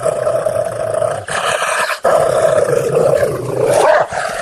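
A cartoon monster in a Hindi bedtime story growls and roars loudly and continuously, with a brief drop in the middle before the snarling resumes.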